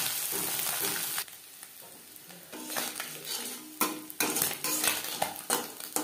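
Small sea fish (mourola) fry crisply in a pan of oil, the sizzle rising and falling as a metal spatula scrapes, stirs and clinks against the pan in irregular bursts, close and alone.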